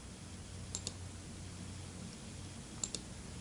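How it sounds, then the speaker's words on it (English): Mouse clicks on a computer button, two quick pairs of sharp, faint clicks about two seconds apart over a steady low room hum. "I can do so by clicking on the yellow button."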